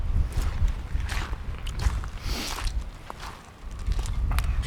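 Footsteps crunch and scuff on a windswept spit at a relaxed walking pace, close by, with wind and open-air background noise.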